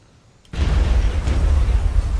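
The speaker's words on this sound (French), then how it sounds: "Comptez sur moi, la première bagnole saute!" After a brief quiet moment, a sudden loud car explosion in Watch Dogs 2 bursts out and rolls on as a heavy, rumbling roar.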